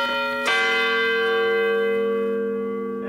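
A single church bell strikes loud and close, then rings on with a long, slowly fading hum that carries on alone to the end.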